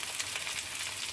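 Chopped onion, ginger and green chili fry in a pan with a constant, even hissing sizzle, heard close and alone.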